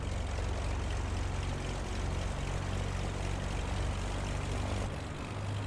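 A Beechcraft propeller plane in Microsoft Flight Simulator roars steadily during its takeoff run, a loud, constant engine and propeller drone with no talking.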